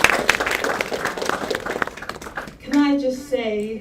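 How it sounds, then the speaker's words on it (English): Clapping from an audience at the Fall Into Creativity Shy Films event, cheering on the creators, mixed with voices over the first half before a speaker's voice takes over clearly toward the end. "one more round of applause for all of our creators."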